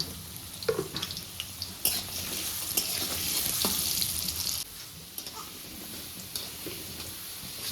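Potato pieces with a pinch of turmeric fry in hot oil in a pan, giving a steady broadband sizzle with occasional scraping stirs and clinks, fairly close and continuous with no voices.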